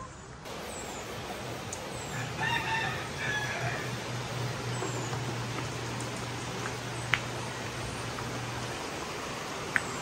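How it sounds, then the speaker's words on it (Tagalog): Chickens cluck and crow at a moderate distance on a rural farm in bad weather, over steady outdoor background noise, with a few sharp clicks near the end. "Yan sa daming manok."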